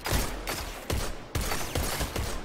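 Gunfire from a first-person shooter gunfight, a series of sharp shots in quick succession, close and loud, several bursts spaced across a couple of seconds with no talk over them.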